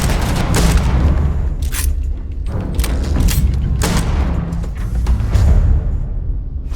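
Gunfire in Starfield during a Crimson Fleet ship boarding, loud rapid bursts of shots and booming impacts in irregular clusters over a low rumbling background, with no voices.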